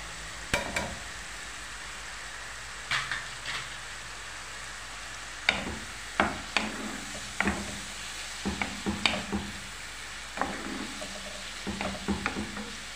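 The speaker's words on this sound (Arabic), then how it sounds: "نخليها يتقلى مليح. مرة على مرة نحرك الشوربة تاعي." Vermicelli soup with meat fries in a pot and is stirred now and then, a soft steady sizzle broken by scattered scraping clicks of the spoon, close but fairly quiet, with no talking.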